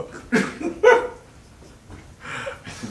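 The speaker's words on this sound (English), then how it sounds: "Dogs." Dogs bark in a few short, fairly close bursts separated by quiet gaps, with no talking over them.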